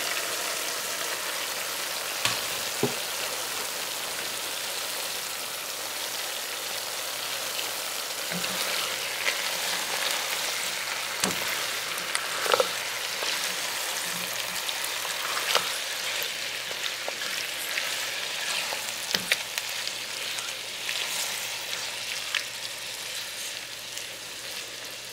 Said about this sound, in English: now I'm adding my chopped tomatoes